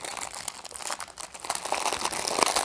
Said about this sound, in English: plastic bag noises